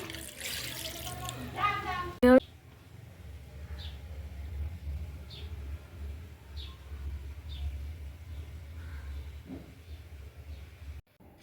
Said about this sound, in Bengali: এই যে আমি এখন পানি ঢেলে দিচ্ছি